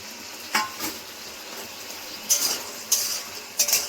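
Chicken pieces for chili chicken are turned through bubbling sauce in a pan, a soft sizzle punctuated by four or five distinct scraping stirs of the spatula, close and unaccompanied by talk.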